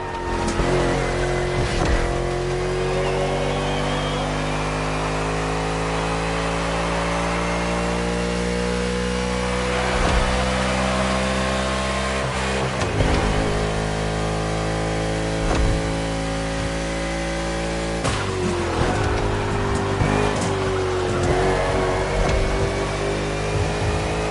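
Racing video game car engine, loud and continuous, pitch climbing and dropping through gear shifts, with a few sharp thumps and bangs along the way.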